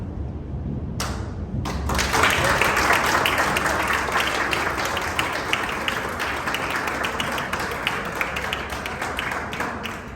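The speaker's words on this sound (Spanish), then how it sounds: "Con este merecido aplauso de toda esta sala" A lecture hall audience applauds at length after a conference talk on writer Clarice Lispector, dense steady clapping filling the room from start to finish after a brief pause.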